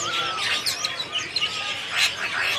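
A rare exotic wild-caught songbird, kept alone at a bird seller's, chirps in quick bright bursts and warbles, close and fairly loud over a low background murmur.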